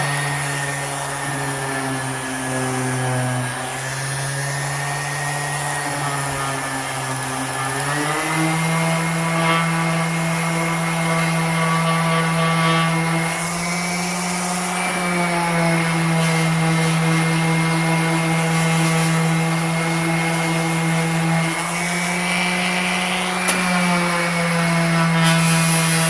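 A cheap variable-speed dual action sander runs continuously on a wood sample, giving a loud, steady motor whine that shifts pitch slightly a few times, with no talk.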